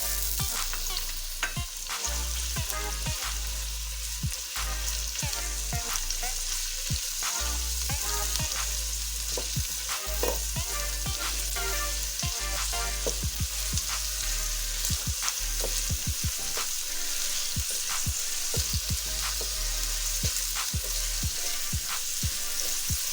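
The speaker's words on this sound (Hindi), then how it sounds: "ये लाइट गोल्डन होने तक इसे फ्राई करेंगे।" Onions frying in oil for matar pulao sizzle steadily and loudly, with repeated stirring scrapes and utensil clicks against the pot running throughout, close up with no talking.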